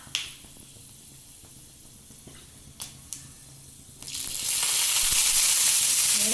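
Onions dropped into hot oil with fenugreek in a pan: a few faint clicks in a quiet kitchen, then a loud hissing sizzle bursts up and holds steady, close by.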